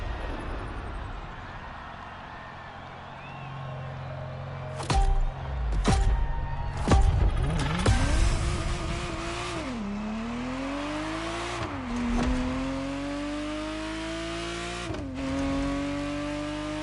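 A Ferrari Testarossa's engine revs and accelerates in The Crew Motorfest racing game, with sharp bursts, rising pitch sweeps through gear changes and a sustained loud drone.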